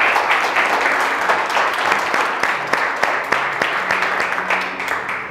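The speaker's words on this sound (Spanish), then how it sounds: "Les vamos a brindar un aplauso para sentirlos presentes." An audience applauds in the hall of a cine-theatre during a live arts event. The clapping is loud and sustained for the whole stretch, with scattered sharper individual claps standing out from the dense wash.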